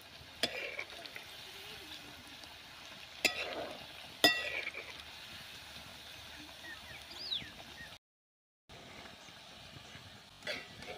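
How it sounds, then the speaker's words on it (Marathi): Colocasia leaf rolls (aluwadi) frying in hot oil, a steady soft sizzle with a few sharper clinks and pops, briefly cut to silence near the end. "मस्तपैकी अशा खमंग तळून घ्यायच्या."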